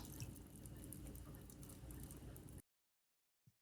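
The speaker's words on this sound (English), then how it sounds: "First, we will add 900 milliliters of water to a pot." About 900 milliliters of water pours into a cooking pot in a kitchen, a steady close splashing stream for over two seconds that stops abruptly, followed by silence and a faint tap.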